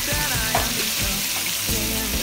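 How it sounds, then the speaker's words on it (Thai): Pork belly frying in a wok for Thai stir-fried kale, a dense, continuous sizzle with stirring scrapes close by. "ทีนี้เราก็จะใส่หมู3ชั้นลงไปนะครับ"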